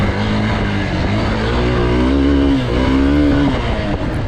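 A Hero Xpulse 200 motorcycle engine drones loudly and steadily, its pitch rising and falling as it revs over loose stones in a rocky dry riverbed.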